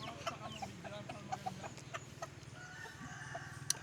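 Chicken chicks peeping and clucking faintly in a rural outdoor setting, a few short scattered calls over quiet background noise.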